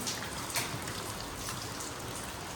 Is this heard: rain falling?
yes